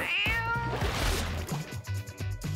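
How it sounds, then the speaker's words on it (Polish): Several hungry cats meow repeatedly from under a table, a string of close, insistent cries with short pauses between them and no talking. "Pod stołem jest całe mnóstwo głodnych kotów!"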